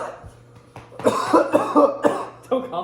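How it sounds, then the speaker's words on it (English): A person coughs repeatedly after eating a Carolina Reaper jelly bean: a quiet cough first, then a loud run of four or five hacking coughs and one more near the end. "Don't cough on the fucking beans"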